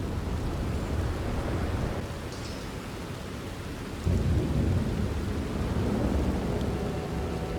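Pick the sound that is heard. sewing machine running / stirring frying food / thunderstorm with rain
thunderstorm with rain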